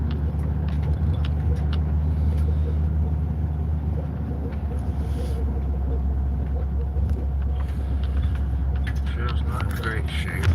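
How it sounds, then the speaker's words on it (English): A truck engine runs steadily with a continuous low rumble throughout, recorded close by on a rough trail near a cabin in the woods. "Get my truck going is what I gotta do."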